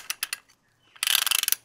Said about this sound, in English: So we turn it around, you can hear that nice ratcheting.